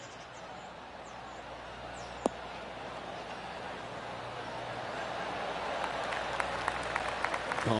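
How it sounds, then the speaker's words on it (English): Soft, scattered golf clap from a small crowd in the video game PGA TOUR 2K23 rises gradually over a low background hum, with a single sharp tap early on. "Oh, golf clap."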